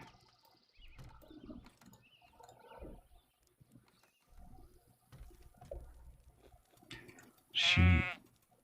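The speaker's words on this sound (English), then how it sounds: "Sheep." A single loud sheep bleat rings out near the end of a quiet stretch of scattered, faint farm and ambient sounds in the village-building game Lords and Villeins.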